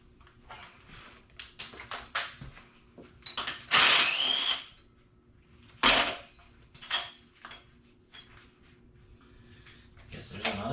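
Battery-powered wrench on a 1JZ engine: short, uneven bursts of whirring and ratcheting, close, with clanks of tools and handling noises in between and someone talking quietly at times.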